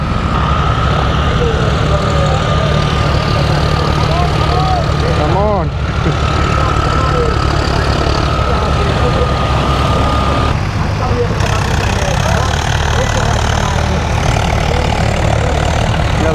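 A steady, low tractor engine rumble runs continuously throughout, close and loud, with a brief dip partway through, in rural Polonnaruwa, Sri Lanka.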